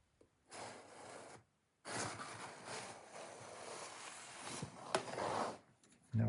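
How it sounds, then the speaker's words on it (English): A Trend diamond plate on its 1000 grit side is rubbed along the plate of an Irwin tenon saw to hone off the burr, making soft close rasping strokes in two bursts split by a short pause. "I'm going to use the 1000 side of my trend diamond plate."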